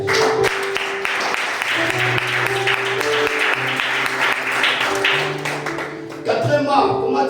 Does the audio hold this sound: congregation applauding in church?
yes